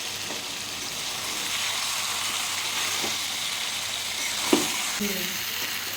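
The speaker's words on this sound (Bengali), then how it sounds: "একদম কম তেল দিয়ে আমাদের মাংসটা রান্না করতেছি" Chicken cooking in a pan with very little oil, giving a loud, continuous sizzle with an occasional stir and one sharp clink of a utensil near the end.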